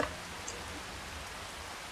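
Steady rain falls in the farming game Farming Simulator 25, an even hissing wash of drops on surfaces at a constant moderate level, with no talk over it.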